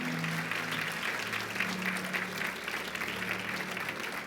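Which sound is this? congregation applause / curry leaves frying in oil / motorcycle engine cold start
congregation applause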